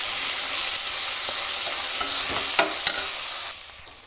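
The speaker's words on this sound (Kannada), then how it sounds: "ಪೇಸ್ಟ್ ಮಾಡಿರುವಂಥ ಬೆಳ್ಳುಳ್ಳಿ, ಅಲ್ಲ, ಕೊತ್ತಂಬರಿಯ ಪೇಸ್ಟ್ ಇದು ಹಾಕಿ ಈಗ ಮಿಕ್ಸ್ ಮಾಡ್ಕೊಳ್ಬೇಕು" Garlic and coriander paste fries in hot oil for veg pulao while it is stirred: a loud, steady close sizzle with scraping spoon strokes, then the sizzle drops sharply near the end.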